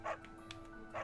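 Dog in the video game Fire Emblem: Three Houses giving a few short, quiet yips and barks, two brighter ones at the start and end with a softer one between.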